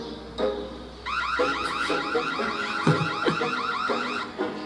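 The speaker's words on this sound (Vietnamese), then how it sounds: "Mình chọc cái xe của ông. Nó báo động rồi mà." A car alarm in a mobile video game goes off after the car is struck, wailing in a repeating warbling siren pattern, loud and continuous, with a few thudding knocks underneath.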